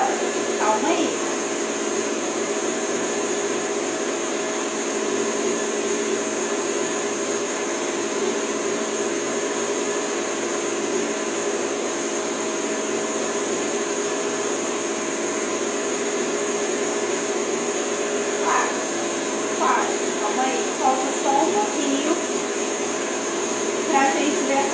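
An electric stand mixer whipping egg whites for a cake, a continuous steady high whir held at constant loudness for the whole stretch, close, with faint talk in the background.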